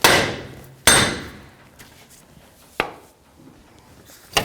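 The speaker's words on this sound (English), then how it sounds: "So I'll just take a hammer and you're just going to whack it." Hammer blows against the front wheel hub assembly of a 2009-2014 Nissan Maxima during a wheel bearing replacement: four sharp, loud metallic whacks spaced unevenly, each ringing off briefly, with no talk.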